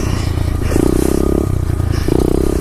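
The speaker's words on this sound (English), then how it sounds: "Let's try and get some wheelies in" SSR 125 motorcycle revving hard during wheelie attempts, a loud, close engine note that surges in two sustained throttle bursts over a steady idle rumble.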